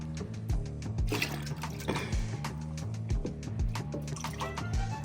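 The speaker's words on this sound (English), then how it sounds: "finish draining the rest of this mucky water and then clean it" Mucky water draining from a fish tank, a busy stream of splashing and gurgling with scattered drips, steady and fairly close throughout.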